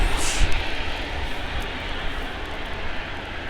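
Small camera drone flying on a gusty, typhoon-like windy day, its steady broadband whir buried in loud continuous wind rumble and buffeting throughout, with no talking.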